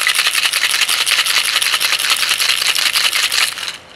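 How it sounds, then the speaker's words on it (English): A Zombie Noggin shot of RumChata and Irish cream shaken hard in a cocktail shaker, a loud, fast, even rattle and rub of ice and liquid for several seconds before stopping abruptly. "Going to shake this up."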